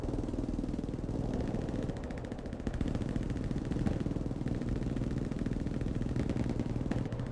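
Machine gun fire in Hell Let Loose, heard as long sustained bursts of rapid, evenly spaced shots over a dense battlefield rumble, steady and moderately distant throughout.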